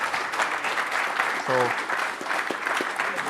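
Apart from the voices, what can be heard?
audience applause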